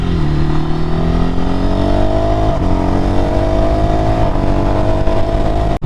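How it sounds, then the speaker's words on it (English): A 2024 Ducati Scrambler motorcycle's exhaust roars loud and close, holding a steady engine note that climbs slowly in pitch while riding, with no speech over it and a sudden cutoff at the end. "I don't know if you can hear that exhaust."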